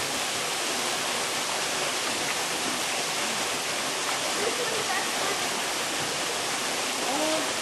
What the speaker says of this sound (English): the waterfall comes out in the middle of the pond